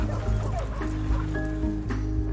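Sled dogs from an Iditarod racing scene in a Nintendo indie game trailer whimper and yip in short, plaintive bursts over a steady bed of music.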